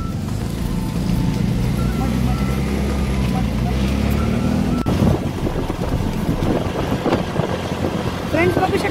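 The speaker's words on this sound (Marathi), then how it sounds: "मला साईडला आपली रिक्षा स्टार्ट झालेली आहे" An auto rickshaw's engine idles and runs steadily beside a tidal creek, a low continuous rumble with wind buffeting the microphone throughout, and a person talks over it near the end.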